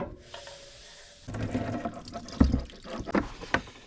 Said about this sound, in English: Get you a drain pan because it will leak diesel everywhere.